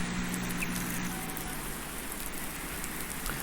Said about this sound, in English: the rain is going to last all day and night